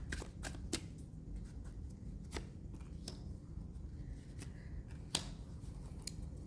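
Tarot cards are shuffled and drawn, producing scattered sharp snaps and flicks with quiet riffling in between. The sounds are close and fairly soft over steady background noise.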